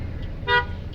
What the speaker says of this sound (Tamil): ஒரு ஹாரன் கொடுங்க.